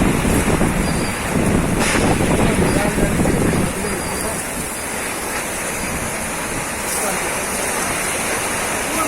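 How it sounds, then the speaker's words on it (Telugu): Heavy rain with gusty wind pours down over Anantapur city. It makes a loud, steady roar close to the microphone, with wind buffeting it and the downpour swelling slightly in the first few seconds. "అనంతపురం నగరంలో ఈదురుగాలులతో కూడిన భారీ వర్షం కురిసింది"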